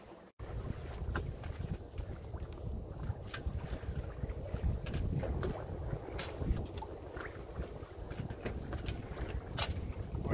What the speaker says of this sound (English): Finally got some wind.